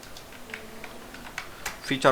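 Computer keyboard keys tapped in short irregular bursts while typing a Google search, soft and close, with faint speech in the background.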